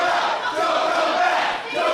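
A women's wrestling crowd roars and chants 'don't come back' in unison, a loud, dense wall of voices that swells and dips slightly over two seconds.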